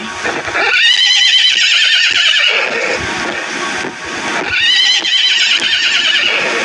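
A horse neighs in a long whinnying call with rapid vibrato, then whinnies again after a short pause, loud and close with no talk over it.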